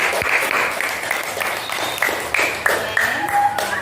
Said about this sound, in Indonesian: sekarang tepuk tangan dulu ke teman-teman yang sudah tampil